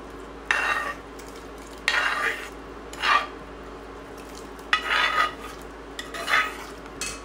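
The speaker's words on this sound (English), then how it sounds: "Putting this onion and carrot into pot." Chopped onion and carrot are tipped into a cooking pot for kidney bean soup, several separate short scraping, sizzling bursts with quiet gaps between them.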